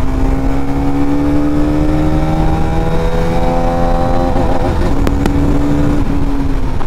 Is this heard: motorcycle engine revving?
yes